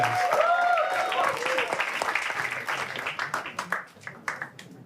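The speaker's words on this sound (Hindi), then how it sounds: "दोस्तों तालियां नहीं रुकनी चाहिए भाई, तालियां नहीं रुक जानी चाहिए।" An audience applauds at a shayari poetry gathering, a dense crowd clapping that thins into scattered individual claps toward the end, while a voice calls out early on.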